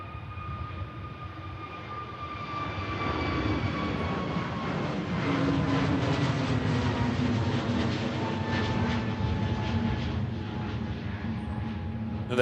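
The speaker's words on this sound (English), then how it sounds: "EasyJet heading out to Sharm el Sheikh." An EasyJet airliner departing Manchester Airport for Sharm el Sheikh builds a deep rumbling jet roar with whining engine tones, growing louder and staying strong through the rest of the clip.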